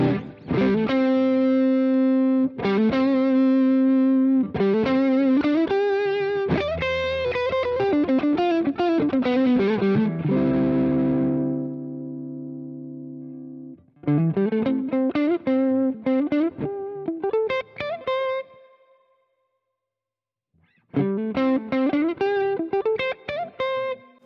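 An electric guitar runs through a Fulltone Full-Drive 1 overdrive pedal in flat mid mode, playing riffs and chords with a crunchy driven tone, a held chord ringing out, then a brief silence before the playing returns, with no talk over it.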